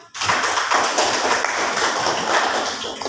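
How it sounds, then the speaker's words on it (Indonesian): Classroom clapping for a junior high school student, a quick burst of many hands clapping together, close and steady until the end, with no talk over it. "Tepuk tangan untuk Lukman"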